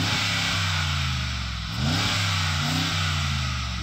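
A Mercedes-AMG G63's powerful V8 engine idles with a deep burble, then revs sharply twice, each blip rising and falling quickly, loud and close.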